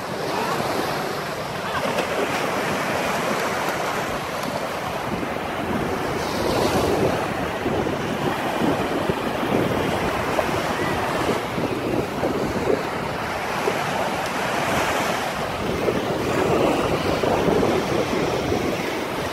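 Ocean surf at Fort Lauderdale beach in Florida rolls in as a steady, broad roar of waves with gusty wind buffeting the microphone throughout.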